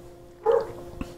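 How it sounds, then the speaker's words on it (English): A dog barks outside a window next door, a single short bark standing out at moderate distance against a quiet room background. "He thinks that everything is a good reason to bark"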